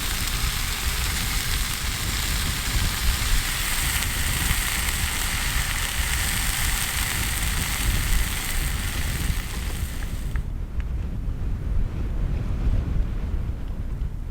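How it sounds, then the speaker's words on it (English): Rain falls on a windy outdoor sand dune landscape as a storm moves in, producing a loud, steady wash of hiss and wind buffeting that stays constant throughout, with no voices. "Oh no, everyone, it is beginning to rain."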